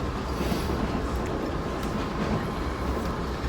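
Steady rumbling of a train from Windsor to London rolling along tracks, heard from inside a carriage, a continuous low roar with faint rhythmic clatter throughout.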